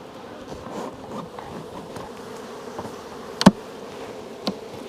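Honeybees buzzing around an open hive during spring hawthorn bloom, a steady close drone of many wings with one loud sharp burst near the end and a smaller one after it; no talking.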